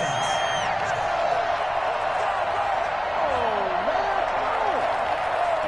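Crowd cheering in the Madden 21 American football video game on PS5, a steady, loud roar of stadium noise with whoops rising over it throughout.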